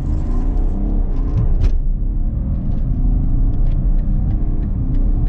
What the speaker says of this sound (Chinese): 下面先测个百公里加速